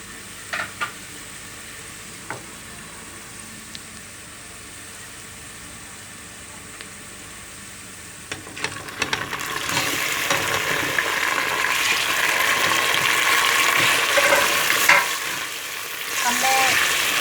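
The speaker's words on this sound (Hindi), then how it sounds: "प्याज हमारा फ्राई हो रहा है। अब मैं इसमें गोश्त ऐड कर दूँगी।" Onions and mutton frying in a pan: a mostly quiet stretch with faint clinks gives way midway to loud, steady sizzling that builds and continues to the end.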